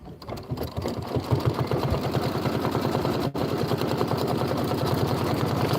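An embroidery machine stitches the outline on a Kimberbell bunny-trail mini quilt, a fast steady needle chatter running close and continuous for the whole stretch, briefly interrupted once, with no talk.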